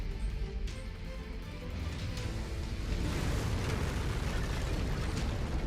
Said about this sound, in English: Enemy reactor about to blow.